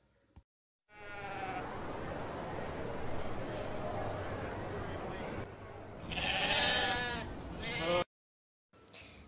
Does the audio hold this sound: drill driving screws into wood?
no